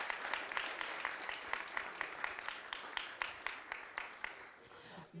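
Audience applause at a talent competition, steady rhythmic clapping from a moderate crowd filling the whole stretch at fairly low level, individual claps distinct and evenly repeated.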